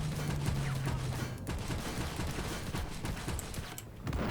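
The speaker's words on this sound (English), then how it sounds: "We'll use our 2 guns now. Look at that rate of fire as we fire on the MBT-70." Rapid gunfire from the Terminator tank's twin guns in the game Armored Warfare, firing on an MBT-70, dense bursts of shots over steady engine rumble.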